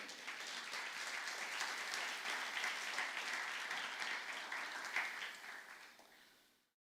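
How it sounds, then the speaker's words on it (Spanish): A church congregation applauds during a sermon, steady dense clapping that holds at an even level for several seconds before fading out at the end. "Denle un aplauso al Señor."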